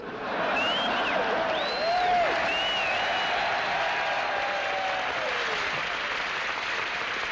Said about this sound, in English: That's not my bow applause. That's the welcome for Joey Heatherton.